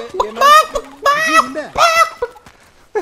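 Chickens in the video game Uncharted cluck and squawk in several loud, close bursts with brief pauses between them, over quiet game ambience.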